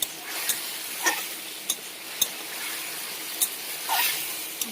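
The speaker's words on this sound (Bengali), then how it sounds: "এবার মশলাটা ভালো করে কষিয়ে নেব।" Spice masala with chopped tomato is stir-fried for khichdi, a moderate sizzle punctuated by sharp spatula clicks and scrapes against the pot at irregular intervals.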